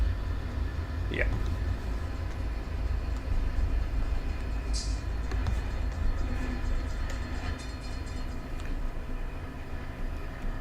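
A JDR freight train rolls past in Run8 Train Simulator, a steady low rumble and rail drone with faint clicks and a brief higher squeal partway through, continuous and without talk.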